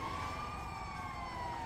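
Ambulance siren wailing in the video game GTA 5, a steady rising-and-falling tone held throughout at moderate, fairly distant level with no talk over it.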